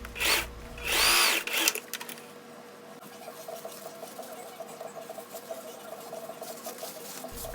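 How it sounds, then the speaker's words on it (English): A sewing machine stitches a seam on biker shorts with a steady, fast mechanical whir and light rattle, preceded by a couple of brief louder bursts of motor noise. "Now I'm just sewing."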